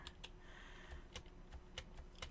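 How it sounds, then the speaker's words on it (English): Computer keyboard typing heard as rapid, light clicks in an irregular rhythm, faint and close over a steady low background hum, with no voices. "apologize if you guys can hear my keyboard"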